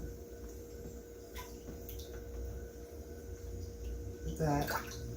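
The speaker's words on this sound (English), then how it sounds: "I always rinse my meats. Always. So we're rinsing it off." Raw salmon is rinsed under a running kitchen tap, a faint steady trickle of water with a brief louder splash near the end.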